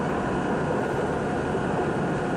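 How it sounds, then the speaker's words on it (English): A New York City Subway D train passes with a loud, continuous rumbling roar of wheels and motors, steady and close throughout with no talking. "Yeah, by the way, that's the D train."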